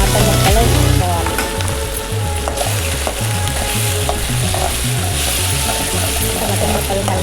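Tomato pieces fry in a pan after ginger-garlic paste for egg rice, giving a loud, steady sizzle with a few stirring scrapes and clinks near the start, no talking.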